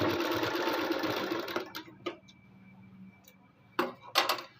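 A sewing machine stitches suit lining in a steady whirring run that slows and stops, followed by scattered sharp clicks and taps of the mechanism and handling close by.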